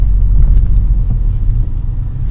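A manual car rolls slowly in first gear, giving a steady, close low rumble from the engine and road with no voices.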